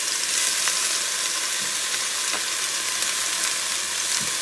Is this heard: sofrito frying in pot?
yes